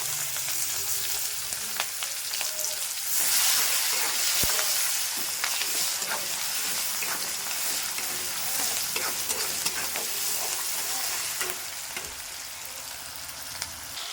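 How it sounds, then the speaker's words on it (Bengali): Onions dropped onto fried cumin in a hot pan sizzle loudly and continuously, with occasional scrapes and clicks of stirring over the hiss, close up and with no talking. "জিরেটা কিন্তু আমার ভাজা ভাজা হয়ে গেছে তো এইবার কিন্তু আমি দিয়ে দিচ্ছি পেঁয়াজ"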